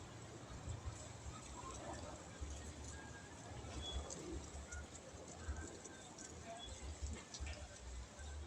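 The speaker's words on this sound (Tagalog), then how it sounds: "Ibon kalapati." A pigeon coos in low, soft, repeated murmurs close by, over a steady background hum, with faint bits of voice around it.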